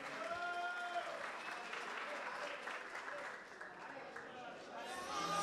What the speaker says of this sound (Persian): هر دو رو تشویق کنید